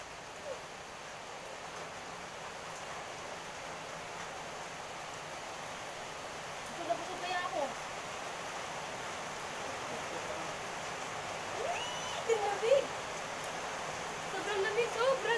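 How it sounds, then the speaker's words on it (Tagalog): Heavy rain pours down steadily in a Filipino neighbourhood near Mandaluyong, a dense, even hiss at moderate distance with a few brief spattering bursts toward the end and no talk over it. "Lakas na ulan eh."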